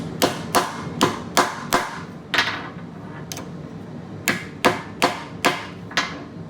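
Sharp hammer strikes drive a metal part into place on a small plasma-cut steel piece, a quick cluster of five blows, then a lone hit, a pause, and another run of five, close and loud.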